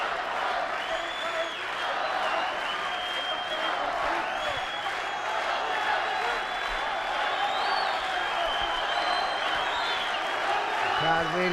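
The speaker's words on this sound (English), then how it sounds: "listen to this crowd here" Arena crowd at an MMA fight roars and cheers in a continuous, loud wash, with a commentator talking over the noise throughout.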